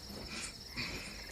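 Crickets chirping in a dense, continuous high trill, close and steady throughout with no other sounds.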